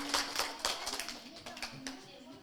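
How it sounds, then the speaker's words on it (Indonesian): A small group claps for a child performer at a kindergarten event, scattered distinct hand claps in an uneven rhythm, fairly faint, with a voice speaking over them. "tepuk tangan untuk Ayusri"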